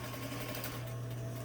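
A sewing machine runs steadily, stitching down a fabric channel over boning on a sheer bodice, a close continuous hum with no pauses.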